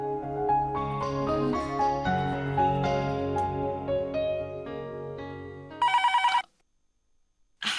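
Music plays for several seconds, then a single short telephone ring on an outgoing call sounds loudly before a brief silence.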